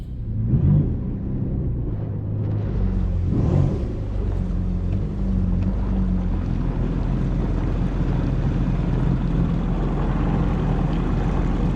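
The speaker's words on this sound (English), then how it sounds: "This is my new GP1800R. It has already got a JP Racing Stage 1 kit." A 2021 Yamaha GP1800R SVHO jet ski with a JP Racing Stage 1 kit on Lake Norman, North Carolina, gives a steady engine drone over water, with wind buffeting the microphone and the roar rising and holding.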